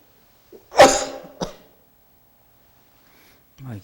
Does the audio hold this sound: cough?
yes